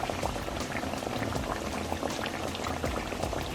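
Pork chops fry in hot oil with a steady, dense sizzle and bubbling crackle, loud and close, continuing without pause and with no talking.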